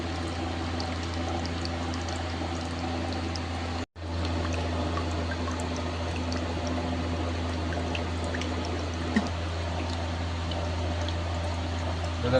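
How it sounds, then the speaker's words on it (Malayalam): Water running out through a rock face, a steady continuous pour and trickle close by, with a brief dropout partway through and no talk over it. "പാറിനുള്ളിൽ കൂടെ ആയിട്ട് വെള്ളം വരുന്നേ."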